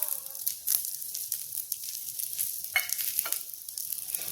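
Pointed gourd (parwal) and ginger frying in a pan over a low flame, a steady soft sizzle broken by occasional scraping stir strokes, close and fairly quiet with no voices.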